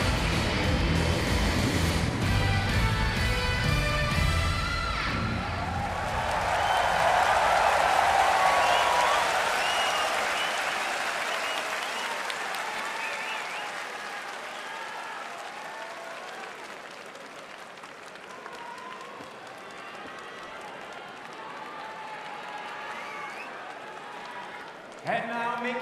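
A boxing arena crowd at home cheers and applauds for Naoya Inoue as he enters before his fight with Nonito Donaire. The roar builds, peaks, then settles into a sustained cheer, with an announcer talking over it throughout.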